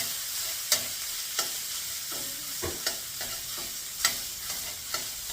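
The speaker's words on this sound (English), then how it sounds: "I'm just going to give this a quick stir. You don't want it to burn" Lasagna sauce stirred in a pan over steady sizzling, with a spoon knocking against the pan in irregular sharp taps spaced about a second apart, close up and with no voices.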